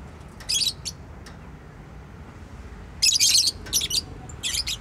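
Lulu, a pet bird, gives sharp high chirps in short clusters, a couple early and a livelier run of several later, close by against a quiet room.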